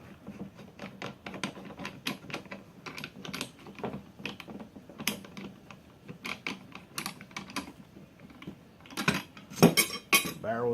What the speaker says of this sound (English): Unscrew this barrel.